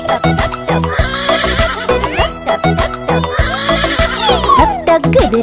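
A horse neighs in a Tamil children's nursery rhyme, its whinny rising and falling over a loud, busy musical backing with steady beats and bright melody throughout.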